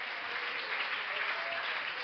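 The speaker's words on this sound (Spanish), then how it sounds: "Dele ese aplauso al nombre del Señor de gloria." A church congregation applauds together during a worship service, a steady dense wash of many hands clapping at moderate volume with no gaps.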